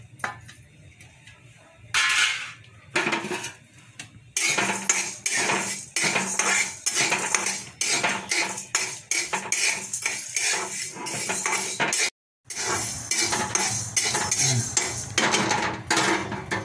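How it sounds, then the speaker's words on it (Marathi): Moong dal being dry-roasted and stirred in a pan, with a metal spoon scraping and clinking against the pan in busy, uneven strokes. The sound is close and fairly loud, with a short pause near the end. "आता ही मुगाची डाळ भाजूया।"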